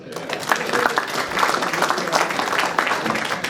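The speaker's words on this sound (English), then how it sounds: "Go ahead, give him a clap." Diners at a 1975 premiership reunion dinner clap for a club member, a lively, moderately close burst of applause with uneven claps and crowd murmur throughout.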